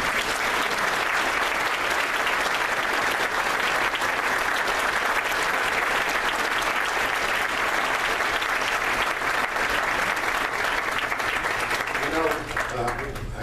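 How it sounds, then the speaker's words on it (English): A loud, dense round of audience applause fills a political debate hall at the 2012 NY-18 congressional debate, sustained evenly for over thirteen seconds with a voice emerging faintly near the end. "how about a round of applause for"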